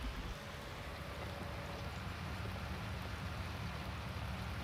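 Steady rain falling in the farming video game Farming Simulator 19, a dense even hiss with low rumbling beneath, continuous and fairly faint.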